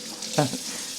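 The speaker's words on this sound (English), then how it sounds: "you just kind of put it under the water and you rub it" Carrots rinsed and rubbed under a running kitchen tap, a steady hiss of flowing water with a brief louder splash as the vegetable passes through the stream.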